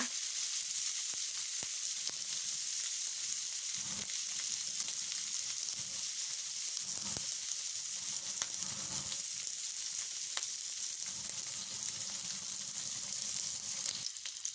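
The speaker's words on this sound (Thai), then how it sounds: "หมูสามชั้นตรงไหนที่มีมันเยอะๆ เราก็จะเอามาเจียว เอามาเจียวก่อนนะคะ" Fatty Thai pork belly sizzles steadily in a pan as its fat renders out, a dense continuous frying hiss with a few soft knocks and stirring scrapes, close and loud throughout with no voices.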